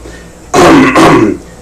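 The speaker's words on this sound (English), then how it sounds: "Said the good Lord, clearing his throat." A single loud, close throat clearing, a rough guttural burst lasting about a second, with no speech around it.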